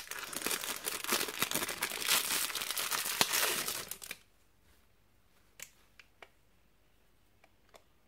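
Plastic packaging holding AliExpress scrapbooking ribbon is torn open with loud, dense crinkling and rustling for about four seconds, then goes quiet except for a few soft clicks and taps.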